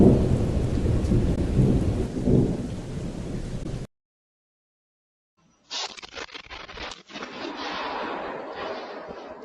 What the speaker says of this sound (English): A mighty storm is on its way, slow but certain,